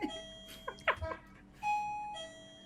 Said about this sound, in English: do I hear a doorbell?